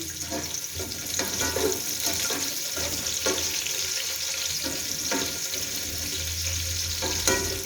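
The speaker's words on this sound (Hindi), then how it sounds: "अब इसमें प्याज ऐड करूंगी। प्याज को हल्का सा ब्राउन करेंगे।" Onions frying in a pan until lightly browned for matar pulao, a steady sizzle with light stirring clatter throughout, close and fairly loud, with no voices.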